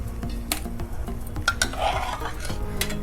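Cooked raw mango is scraped from a pot onto a plate, giving scattered clinks and scrapes of a utensil on cookware against a faint background hiss.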